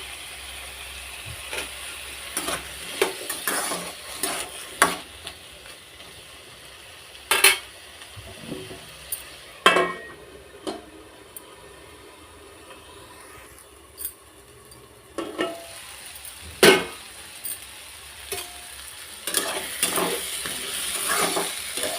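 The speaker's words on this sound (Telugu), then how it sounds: "ఈ విధంగా ఫ్రై చేసుకోవాలి. అలాగనే మనం కట్ చేసి పెట్టుకున్న 2 టమాటా ముక్కలు వేసుకుందాం." Tomato pieces frying in a pan for village-style cucumber chutney, with low sizzling broken by scattered clinks and scrapes of a stirring spoon against the pan, close and fairly quiet, no talking.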